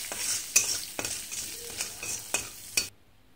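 A spoon stirring a sizzling tempering with asafoetida in a pan, a soft continuous fry hiss broken by about six sharp metallic scrapes and taps, close and clear with no talking.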